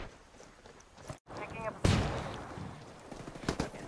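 Gunfire in Ghost Recon Wildlands: a sharp loud shot crack followed by scattered quieter bursts and distant pops, with brief voice fragments over a noisy battlefield background.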